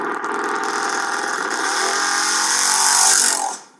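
A hot rod car engine rumbles loudly and throatily, building in intensity before cutting off sharply near the end, with no one talking.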